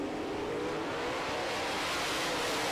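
Late model race cars roar around an oval track in a steady, loud wall of engine noise as the field comes to the green flag, with no pauses.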